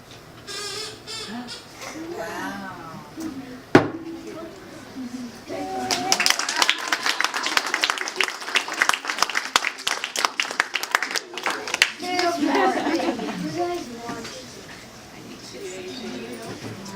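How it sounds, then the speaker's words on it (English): An audience at a science fair chemistry show gives a round of applause for Jamie, a burst of clapping and cheers rising in the middle after talk, then fading back as speech resumes. "can we get another round of applause for Jamie?"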